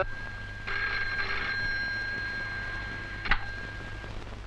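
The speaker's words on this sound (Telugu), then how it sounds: "నాన్సీ, నీకు ఫోను." An indoor telephone rings in a film scene, a bright electronic trill that sounds for about a second, pauses, then gives another short burst, with a low steady hum underneath.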